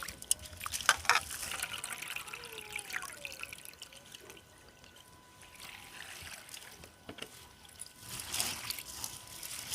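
Grains being rinsed by hand in a bowl of water for homemade baby cereal, with soft intermittent splashes and trickles close by, quieter in the middle and picking up again toward the end.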